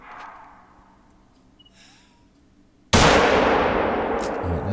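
A single loud rifle shot cracks out at a bison in theHunter: Call of the Wild, bursting from a quiet outdoor scene and ringing into a long, decaying echo.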